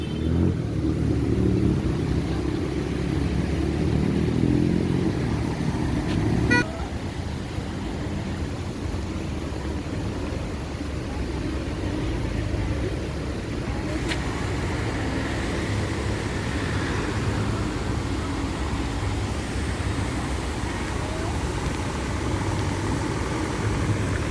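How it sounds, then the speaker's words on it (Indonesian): Busy road traffic in Pariaman, Indonesia, with cars and motorcycles passing during a festival, producing a continuous low engine rumble and hum at moderate distance with no talking. "Sangat ramai sekali teman-teman kendaraan"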